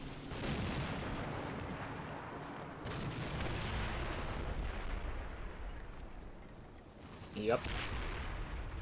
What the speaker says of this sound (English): So like that's like a HMG and a mortar.